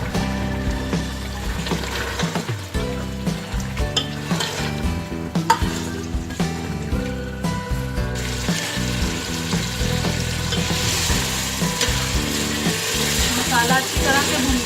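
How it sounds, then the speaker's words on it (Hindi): Masala with tomatoes frying and being stirred in a pan for mash ki daal gosht, giving a steady close sizzle with scraping spoon strokes throughout, no talking. "अब टमाटर डालकर मसाला अच्छी तरह भून लेना है।"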